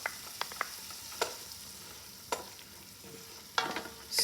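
Three garlic cloves go into a pan of vegetables and chicken sausage for kale soup, giving a soft, low sizzle broken by a few sharp spoon knocks and scrapes as they are stirred in.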